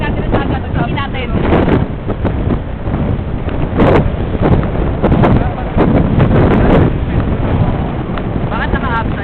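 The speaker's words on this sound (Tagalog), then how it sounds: "Lahat na hangin dito." Strong, gusty wind batters the microphone at the seaside by Mall of Asia, a steady roar with sharper buffeting bursts, while voices call and shout over it throughout.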